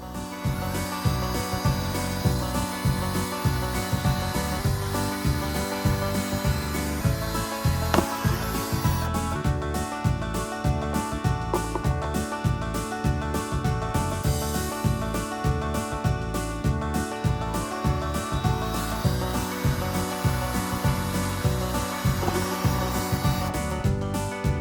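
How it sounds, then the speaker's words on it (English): A steady, rhythmic mechanical whir with repeating pulses runs throughout as a drill bores through a thin plastic Dollar Tree stackable, loud and close. "Use light pressure when drilling this thin plastic to prevent breakage."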